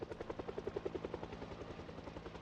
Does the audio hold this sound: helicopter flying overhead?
yes